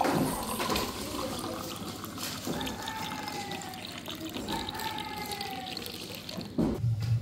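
Water is poured into a glass, one of a row of glasses being filled to different levels, a close, continuous trickling splash with short breaks between pours and a louder knock near the end.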